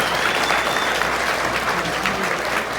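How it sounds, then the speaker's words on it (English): A crowd at a TNT MotorSports monster truck event in Raleigh, North Carolina claps in a sustained, evenly spread round of applause that carries on alone for the full length. "Let's give them one more round of applause."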